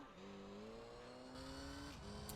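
A car engine in Gran Turismo 3 winds up at full throttle, pitch climbing steadily through a gear before a shift drops it and it climbs again, a continuous, even game engine tone.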